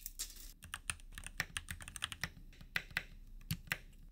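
Keys clack on a modded Keychron C1 mechanical keyboard as the keys are tested, irregular close-up taps and presses in quick bursts, fairly quiet with no talking.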